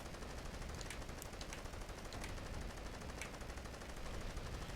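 Sustained machine gun fire in the Call of Duty World War II shooter game, a dense continuous rattle of rapid automatic bursts filling the whole stretch with no talk over it.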